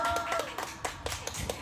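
Scattered audience handclaps greet a singer at a Vu Lan celebration at Kiều Đàm Temple in San Jose, a few sharp uneven claps over faint background tones.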